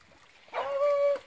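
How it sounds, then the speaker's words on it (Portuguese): A hunting dog whimpers at a river's edge while searching the water for a paca, a thin high whine rising and holding for under a second, fairly close against faint outdoor background. "Olha a cachorrinha caçando na água."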